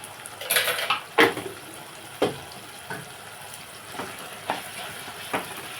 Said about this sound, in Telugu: ఒక స్పూన్ అల్వెల్లుల్లి పేస్ట్ వేస్తున్నాను